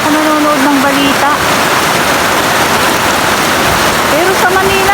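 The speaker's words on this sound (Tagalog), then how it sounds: "Dito lang umuulan." Heavy rain pours steadily during a typhoon, a dense continuous hiss filling the scene from start to finish, with faint voices talking beneath the downpour.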